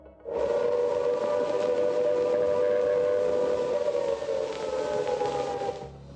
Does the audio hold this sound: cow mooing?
no